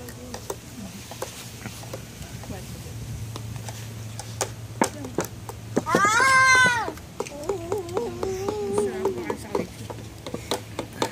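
A cat lets out a drawn-out, wavering meow, followed by a series of shorter meows, with light tapping and clicking around it.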